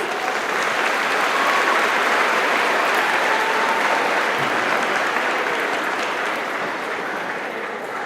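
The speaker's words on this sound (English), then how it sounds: "Can we give them all a big round of applause" A large audience at an eighth-grade graduation ceremony gives a big, steady round of applause after the Pirate of the Year award, sustained and dense throughout, easing slightly toward the end.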